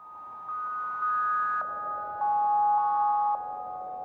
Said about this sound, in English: I have a little bit of reverb on the MicroFreak